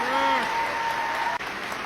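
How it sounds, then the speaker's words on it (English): Audience applause from a standing ovation after an ALS stand-up comedy set: a steady wash of clapping that fills the whole moment, with a faint tone and a short dropout near the end. "Standing ovation,"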